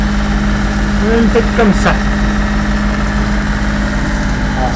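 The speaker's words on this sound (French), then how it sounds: "quand il y a le moteur qui tourne déjà depuis 2 heures" A sailboat's inboard engine runs steadily at idle-like pace while motoring with little or no wind, a constant low drone with a faint hum and vibration, as someone talks over it.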